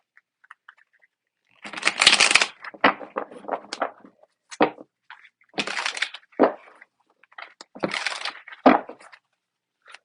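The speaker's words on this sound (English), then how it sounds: "I'm going to keep shuffling" A deck of tarot cards being shuffled by hand in a quiet room, with several separate bursts of riffling and slapping cards, then short pauses between them.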